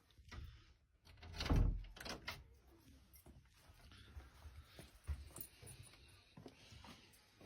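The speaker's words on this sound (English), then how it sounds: "make sure you can open the door and get to the back of the lock" A door with a night latch is opened indoors: a loud thud and rattle of the door and lock near the start, then quieter shuffling and handling noises.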